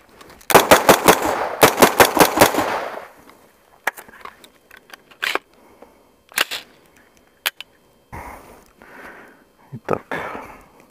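Two rapid bursts of loud carbine gunfire open the clip, followed by scattered single sharp shots and metallic clatter as rounds hit a metal door, close and echoing.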